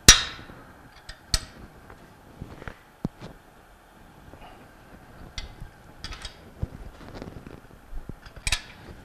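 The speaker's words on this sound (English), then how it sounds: "now I'm going to tighten the volute bolts down" Volute bolts on a Bell & Gossett Series 1510 pump are snugged down with a hand tool, producing sparse, sharp metallic clicks and taps at irregular intervals against a quiet background.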